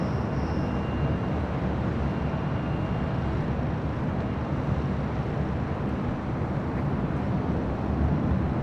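An SAS airliner, a heavy long-haul jet from Copenhagen, arrives at LAX with a broad, steady engine roar and rumble, continuous and fairly loud with no clear rise or fall.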